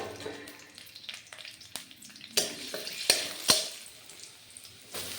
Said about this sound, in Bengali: কড়াইয়ের মধ্যে তেল দিয়ে দিলাম। রসুন কুচি আর লঙ্কা দিয়ে দিয়েছি।